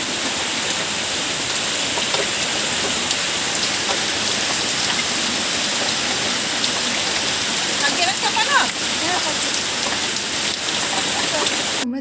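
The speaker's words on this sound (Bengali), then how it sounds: "তোমরা দেখতেই পেলে দুপুরে কত বৃষ্টি হচ্ছিল" Heavy afternoon rain pours down in a steady, dense hiss that stays level throughout, with faint patter and splashes on surfaces and a few soft background sounds, close and continuous.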